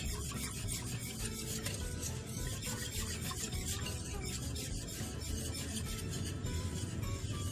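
A spoon scrapes and rasps steadily against the bottom of a pot of chocolate pudding on the stove, a continuous close stirring sound with faint simmering underneath.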